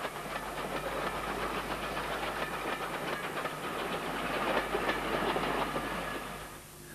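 A steam train hauled by the 1891-built North British 0-6-0 locomotive runs on the scenic West Highland extension, a steady rolling rumble with clickety-clack and hiss held at a constant level before easing off near the end.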